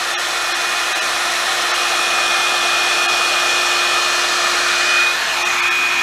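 Revlon hair dryer brush running on its low setting, a steady close whooshing hum with a faint whine, continuous and unbroken, with no talk.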